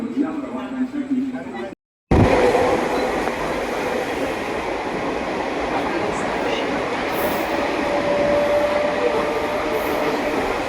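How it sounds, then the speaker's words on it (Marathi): After a short voice and a brief cut, a train rumbles steadily nearby with a constant rolling drone and a faint squeal of wheels. "ही ट्रेन आता आपल्याला पकडायची आहे"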